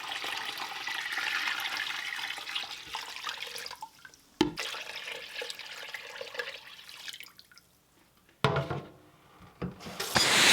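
Water pours into a bucket holding a turkey in brine, a continuous rushing splash that stops and starts with a few knocks and bumps of handling between pours.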